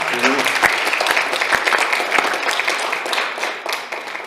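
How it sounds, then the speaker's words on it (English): Steady, dense audience applause after a public interest conversation event, many hands clapping at once with a brief voice near the start. "I would love for us to give a round of applause to Mr. Hewitt and Professor Rulli"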